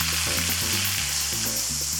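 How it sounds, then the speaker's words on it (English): Onions frying in a pan after steak, a dense, close, steady sizzle with a low tonal hum running beneath it. "now I'm gonna add my onions. And we're gonna make these nice and brown."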